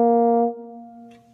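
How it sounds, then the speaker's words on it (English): A euphonium sounds a single sustained note with a straight, steady tone and no vibrato, loud at first and then softer, played alone up close. "as opposed to a straight tone, which sounds like this"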